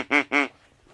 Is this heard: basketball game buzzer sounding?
no